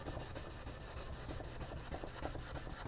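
A Scotch-Brite abrasive pad rubs back and forth along the edge of a damaged Garmin Force boat propeller, giving a steady, close, raspy scrubbing with a quick regular rhythm and no voices.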